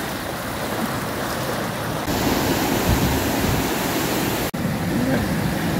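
Sea waves wash against large stones at Clifton Beach as a continuous loud surging roar, heard close up with a few brief bumps of handling noise.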